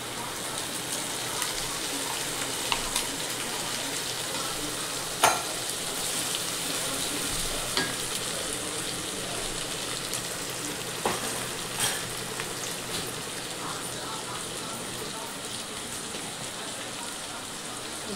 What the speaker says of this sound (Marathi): बघा ते चांगलं भाजत आलं आहे आपलं टमाटर टाकल्याच्या नंतर.